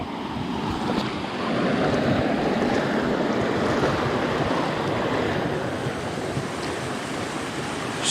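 Water rushes steadily along a rocky trout creek on a backpacking trail in the Pennsylvania Laurel Highlands, a dense, continuous broadband wash that stays close and loud throughout, with no voices.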